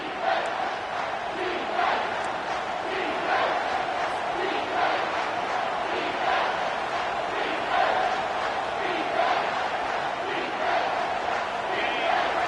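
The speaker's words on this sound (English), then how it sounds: "This crowd is tearing the lid off this place." A packed stadium crowd roaring during overtime of a college football game, a loud sustained wall of cheering and yelling that surges in waves, with an announcer's voice faintly beneath.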